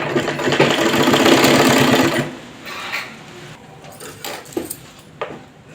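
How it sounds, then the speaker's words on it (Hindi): A sewing machine runs steadily for about two seconds, stitching along the neckline of a simple straight kurti, then stops, leaving scattered light handling clicks and rustles. No one speaks. "आगे वाले गले से हम मिलाते हुए यहाँ पे सिलाई चलाएंगे।"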